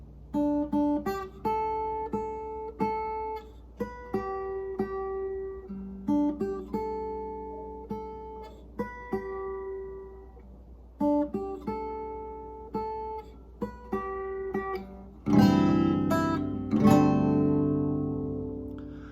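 An acoustic slack key guitar picks a relaxed fingerstyle verse of "No Ke Ano Ahiahi" with ringing bass notes and chords in a steady rhythm, ending on a fuller strummed chord that rings out.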